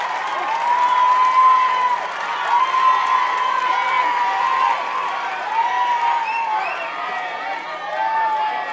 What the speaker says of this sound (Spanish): Un aplauso para Leonel que siempre está aquí con nosotros